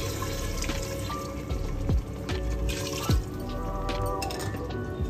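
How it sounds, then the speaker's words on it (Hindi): Water is poured into a cooking pot for nahari, a steady close splashing stream with a few louder plops and drips across the few seconds. "उतना हमें पानी डालना है इसमें"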